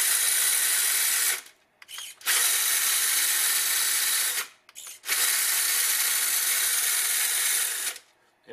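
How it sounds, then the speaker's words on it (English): RC motor whirring in sustained high-pitched bursts on a HoBao DC-1 trail crawler as its servo shifts the transmission speed, three long runs separated by brief pauses, close and loud with no talk. "Now that'll change this servo when I push that in. So there you go. See, that's different speed transmission."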